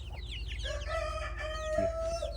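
Chickens cluck and squawk nearby, with a drawn-out hen call over a low steady background hum.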